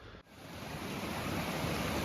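Steady broadband rush of flowing water at a stream crossing with no bridge on the Brazeau Loop in Jasper National Park, a continuous close wash of current filling the air without a break.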